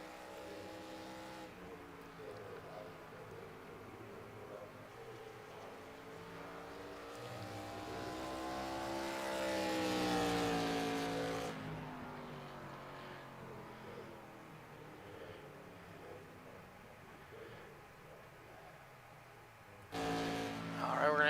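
An ARCA series stock race car roars past on track, its engine note rising as it nears and fading as it moves away, with a second car breaking in loudly near the end.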